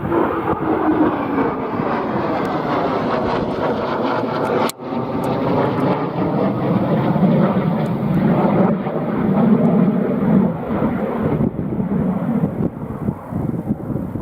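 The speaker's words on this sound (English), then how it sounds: "Oh, got a Typhoon coming in really quick." A Eurofighter Typhoon jet approaches to land at RAF Coningsby on runway 7, a loud, sustained roar with shifting tonal sweeps that stays strong throughout, broken by one sharp click near the middle.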